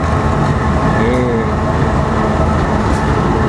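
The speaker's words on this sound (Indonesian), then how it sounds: "Nah, ini ada kereta lewat." A Pertamina freight train carrying petrol and diesel rolls past in Yogyakarta, a loud, steady rumble of wheels and wagons with faint rail squeals, filling the whole stretch, while a person talks over it.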